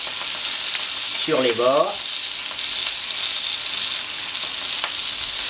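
Vegetables sizzle on a hot plancha griddle, a steady broad hiss filling the clip, while a voice speaks briefly near the start.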